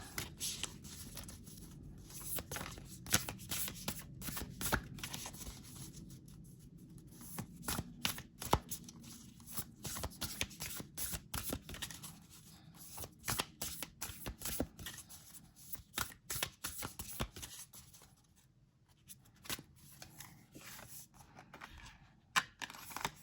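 Large oversized cards are shuffled by hand in repeated bursts of quick papery riffling and flicking, close and fairly quiet, with short pauses between rounds and no speech.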